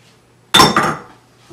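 Dry pretzels tumble into a pot with marshmallows and get stirred, a sudden loud rattling clatter against the pot that fades over about half a second, with no one talking.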